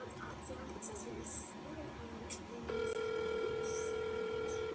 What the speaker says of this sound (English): No, her phone's not dead. It's ringing.